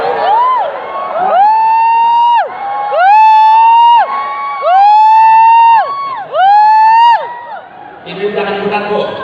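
A church congregation listening to a sermon shouts a drawn-out "yes" together several times in loud, rhythmic bursts, then breaks into brief applause at the end.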